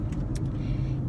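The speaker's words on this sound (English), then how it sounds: "I'm in the car again on the way home from LA" Low, steady rumble of a car heard from inside the cabin while driving home from LA, a dense road-and-engine drone with no voices.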